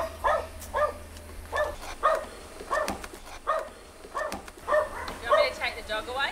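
A dog barks repeatedly in a steady rhythm of short, sharp woofs, close by, with a low background hum.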